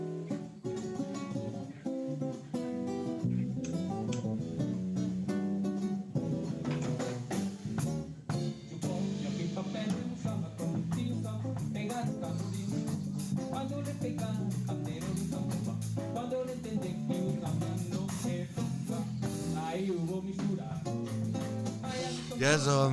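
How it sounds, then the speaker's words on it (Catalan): A song played live on acoustic guitar at a vermouth event in a hall, with strummed chords and picked notes, steady and continuous, fairly close and clear, with no talking over it. "però ara sona la cançó."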